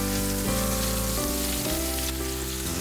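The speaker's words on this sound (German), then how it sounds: "Wir haben gleich den Speck eben, der ist so dick, den brate ich mal zuerst an." Thick bacon frying in sunflower oil in a pot sizzles loudly and steadily, with a dense crackle throughout and no voices over it.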